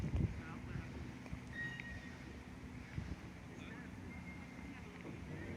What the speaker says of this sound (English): battling with the wind there